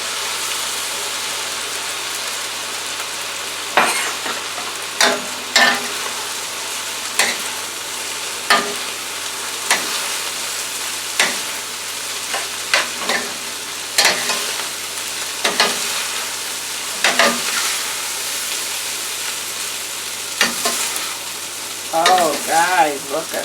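Jasmine rice and bean sprouts stir-fry with soy sauce in a hot pan, a steady sizzle broken by repeated sharp spatula scrapes and clacks at irregular intervals, growing busier toward the end.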